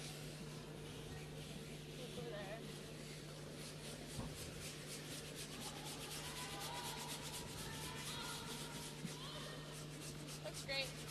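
Curling brooms scrubbing the ice during a women's world championship game, a steady rough brushing hiss with quick rhythmic strokes, heard amid constant arena noise and crowd murmur.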